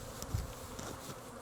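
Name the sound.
honey bees buzzing around a hive frame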